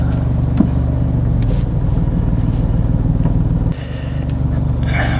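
A high-performance sports car at a drag race, its engine roaring loudly and steadily nearby, then dropping briefly in pitch and level before building again, with no talk.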